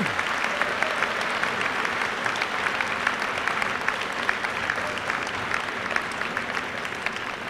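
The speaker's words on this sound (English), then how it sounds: "A big round of applause for all of our scholarship winners." Steady, dense audience applause fills an awards ceremony hall for scholarship winners, a continuous wash of many hands clapping at even volume throughout with no voices rising above it.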